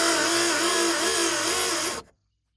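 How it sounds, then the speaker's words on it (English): A hole saw grinds into metal with a loud, steady, high whirring drone close by that cuts off abruptly near the end. "the hole saw I had was not a metal blade, so it was not gonna work on this"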